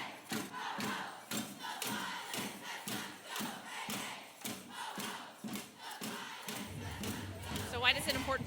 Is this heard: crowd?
yes